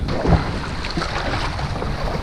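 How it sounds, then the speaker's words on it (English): Strong wind buffets a microphone out on the water while fishing from a boat, a rough continuous rumble with gusty swells and a bump near the start. "This wind is absolutely killing me today."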